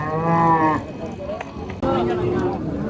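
Cattle low at a rural cattle market offering Friesian and Sahiwal heifers and calves, two loud, close moos separated by a short pause, with market chatter underneath.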